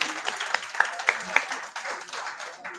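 Scattered, fairly quiet clapping from a small audience at a community ideas meeting in Custom House and Canning Town. A few sharper individual claps stand out over a soft murmur of voices.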